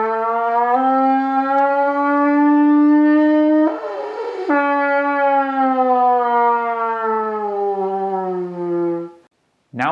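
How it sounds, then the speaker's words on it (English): A trumpet played without its tuning slide plays one long sustained note that slowly bends in pitch like a fire engine siren, briefly breaking into breathy noise midway before continuing. "Try to make a really long fire engine siren."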